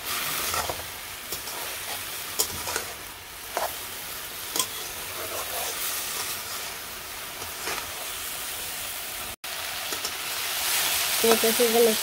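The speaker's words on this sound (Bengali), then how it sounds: "সবজি ভাজা হয়ে গেছে" Mixed vegetables fry with a steady crackling sizzle in a village kitchen pan, with sharp scraping stirs landing every second or two and a brief cutout near the end before the sizzle resumes louder.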